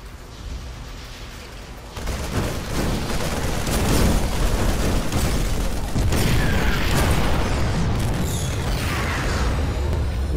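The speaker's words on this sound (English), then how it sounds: "Explosions look nice." Heavy booming blasts and crackling bursts of explosions in the video game StarCraft II roll on continuously, loud and dense, with no voices.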